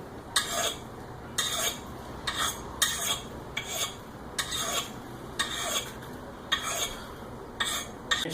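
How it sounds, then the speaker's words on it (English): Metal file rasping along the edge of a Council Tool Woodcraft axe, about ten evenly spaced, crisp scraping strokes, close and clear with no talking. "54 HRC means that we can use the file to sharpen this edge"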